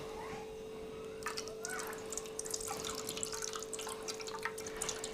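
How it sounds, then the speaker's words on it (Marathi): Water pours into a copper pot with a quiet trickle that turns into a run of light splashes and drips, close by in a quiet room under a faint steady hum. "आता चांगलं पाणी माझ्याकडे आहे ना ते मी ह्याच्या ओतून दाखवते"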